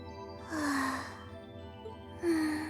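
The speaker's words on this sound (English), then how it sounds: "It's a weirdly loud sleeping sound without actually snoring." Heavy, slow breathing from a sleeping character in Trails of Cold Steel II, with two loud drawn-out breaths about two seconds apart and no snoring.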